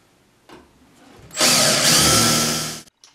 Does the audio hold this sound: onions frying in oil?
no